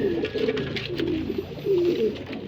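Racing pigeons coo close by in soft, repeated throaty rolls, several birds overlapping in a steady murmur.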